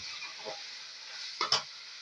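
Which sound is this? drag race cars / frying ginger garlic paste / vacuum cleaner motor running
frying ginger garlic paste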